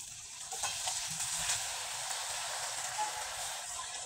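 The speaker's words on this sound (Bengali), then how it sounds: "এই চিপসগুলো হালকা আছে ভেজে নিতে হবে" Thin homemade rice-flour chips frying in hot oil, a soft, steady sizzle and crackle that stays faint and constant, with no voices.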